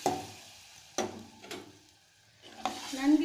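Boiled green gram is stirred into a sautéed mixture for a Tamil green gram curry: a few close spoon scrapes against the pan over a faint sizzle.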